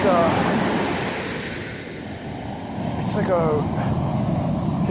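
Ocean waves washing steadily in a broad, continuous roar that swells and eases, close and loud, with someone talking over it throughout.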